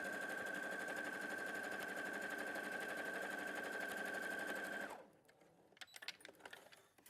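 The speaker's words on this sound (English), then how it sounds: "I'll sew this together really quickly so you can see" A sewing machine stitches a quarter-inch quilt seam in a steady, fast whirring run with a constant high whine, then stops abruptly about two-thirds through, leaving faint clicks and handling noises.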